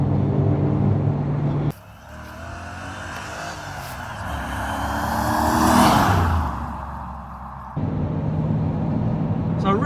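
A 2014 two-wheel-drive Toyota Hilux with a swapped-in Chevrolet LS2 V8 drives along with a low, steady engine drone that swells and shifts in tone, then settles again.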